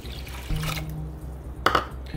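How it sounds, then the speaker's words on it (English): A cup of water poured into a pot of rice, a short gurgling splash and trickle over low background hum, ending in a couple of drips, close and fairly quiet. "I put in 1 cup of water so far, and here's the 2nd cup"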